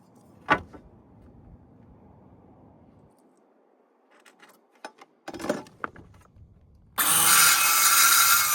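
Power saw cutting a wooden board for a bus conversion, a loud steady burst of sawing filling the last second and a half after scattered knocks and handling clicks.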